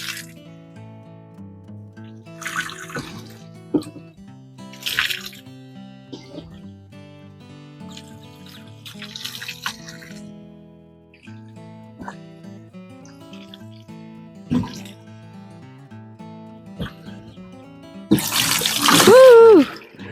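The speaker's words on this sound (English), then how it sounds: "now we're going to put 2 gallons of water" Water is poured from a 2-gallon bucket into the soil of a Garden Tower planter, with splashy bursts of pouring and dripping between quieter stretches and a louder gush near the end.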